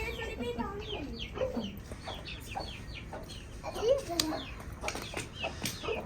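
Farmyard chicken clucking at a village home, repeated short clucks and a brief louder squawk with some wing flapping, mixed with background voices.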